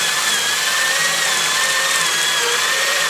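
A power drill runs steadily, drilling through a Wolfcraft dowel jig guide into wood, giving a loud continuous whine with a slightly wavering pitch and no pauses.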